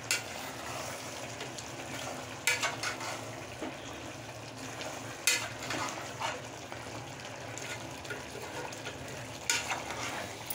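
Mutton frying in a pan, a faint continuous sizzle with occasional sharp clinks of stirring, fairly quiet throughout and no talk.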